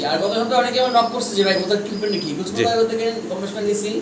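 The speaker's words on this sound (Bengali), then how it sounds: "অনেক কবুতর ডিম বাচ্চা নিয়ে বসা আছে" At a pigeon farm, pigeons nesting with eggs and chicks coo in a dense, overlapping flock. Their low, rolling calls stay close and continuous.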